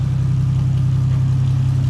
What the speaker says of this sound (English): it sounds way better. All you can hear is like a little exhaust leaks that I got around here